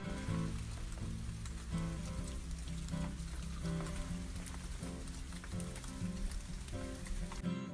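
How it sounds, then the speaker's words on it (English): Light rain sprinkling outdoors at a field on an opening-morning deer hunt, a steady soft patter of drops throughout, fairly close, with no talk. "as it was starting to sprinkle"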